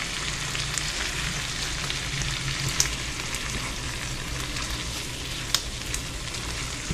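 Ackee and saltfish sizzle and fry in a pan with olive oil, a steady close crackle running throughout with a couple of brief sharper clicks as the food is lightly tossed.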